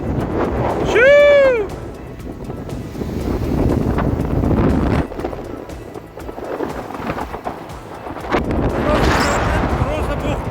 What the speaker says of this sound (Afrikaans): Die wind waai so sterk.